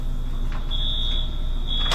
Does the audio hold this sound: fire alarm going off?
yes